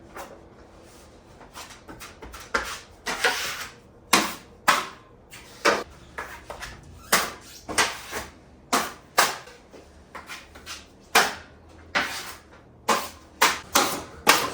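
A broken, bulging drywall corner in an unfinished garage is cut and knocked out, giving a series of sharp, close knocks and cracking impacts in irregular bursts against a quiet background, with no talking.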